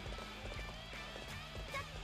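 Horse galloping in the video game Warriors Orochi 3, a steady quick hoofbeat rhythm running throughout under a dense, busy game soundscape.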